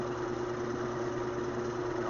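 An air-powered slam valve expansion motor runs with a steady, even mechanical hum and a constant tonal drone, heard close and unchanging throughout.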